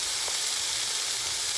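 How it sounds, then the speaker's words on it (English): Hamburger steak in onion gravy sizzles and bubbles in a hot pan, a steady, loud, close frying hiss that carries on without a break. "You can see the sides kind of bubbling up and sizzling."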